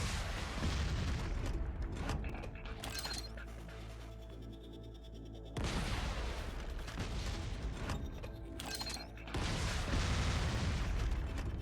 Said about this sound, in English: Yeah, full case of rocket launchers,